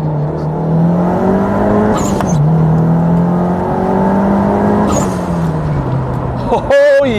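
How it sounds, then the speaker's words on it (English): A Nissan S13 Silvia's SR20DET turbo engine is revved hard, its drone rising and falling in sustained pulls, with a sharp burst and turbo whoosh near the end, loud and close. "I know loads of you came here for turbo noises"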